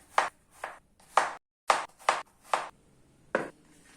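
Knife slicing through cucumber for a salad in a home kitchen, about seven crisp, close cuts at an uneven pace with short pauses between, no talk.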